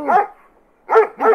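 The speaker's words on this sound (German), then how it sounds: "warum bellt er mich an?" A dog barks in the video game Farming Simulator 22: three loud, close barks, one single and then a quick pair after a short pause.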